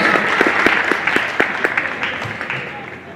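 Crowd in a high school gym at a varsity boys basketball game applauds senior cheerleaders and players, a wash of clapping with sharp individual claps and voices that slowly fades.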